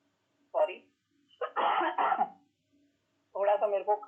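A person with a cold coughs and clears their throat in short, close bursts separated by silence, with a brief voiced sound near the end.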